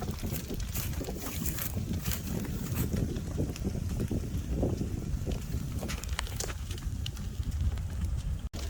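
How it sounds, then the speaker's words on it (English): An outdoor fire burning against the wind, with a continuous low rumbling roar of wind over the flames and faint crackles scattered throughout, steady and fairly loud. "This fire is taking a long time because it has to go against the wind."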